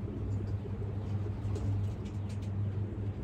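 Pakistani highflyer pigeons give low, repeated cooing near their loft, a soft rhythmic hum with faint outdoor background noise.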